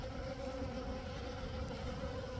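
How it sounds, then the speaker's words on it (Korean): Honeybees, likely dark-bodied western honeybees gathering material in early spring, buzz in a steady, continuous drone that hums close and fairly loud, with no speech. "양봉이 흙벌 흑벌이기 때문에 여기서 무언가를 채취하려고 이놈 다리에다 많이 묻혔습니다"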